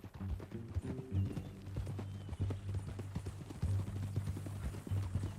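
Horse hooves clip-clop steadily at a walking pace in Red Dead Redemption 2, a close, rhythmic series of hoof strikes over a low, steady background hum.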